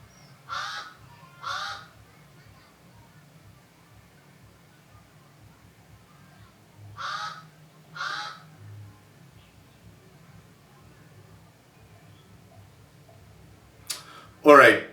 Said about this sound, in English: there's a bird here that's basically maybe messing with my recording